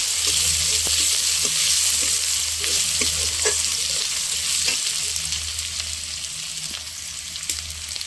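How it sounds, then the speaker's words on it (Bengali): Onions fried with garlic paste and green chillies in a pan, a steady close sizzle running throughout with soft scraping stirs, with no talking. "দেখো এখন পেঁয়াজগুলো পুরা প্রচুর পরিমাণে ভাজা হয়ে গেছে"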